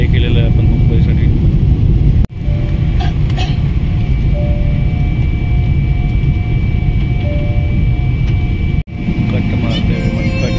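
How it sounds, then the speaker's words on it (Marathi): A steady, loud engine drone fills the cabin of a Thai Airways airliner in flight from Bangkok to Mumbai, continuous and close, with two brief dropouts and faint voices beneath. "फायनली फ्लाय केलेलं आहे आपण मुंबईसाठी."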